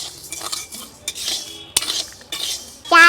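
Rice dry-roasts over high heat in a pan and is stirred with a utensil, giving repeated close scraping sweeps and hissy rustles broken by sharp metallic knocks, with a bright clink at the end. There is no talking.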